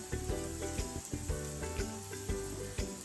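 Oil sizzles steadily as a radish (mooli) paratha fries on a pan over a medium flame, a soft, continuous crackle with faint clinks and scraping, no voices.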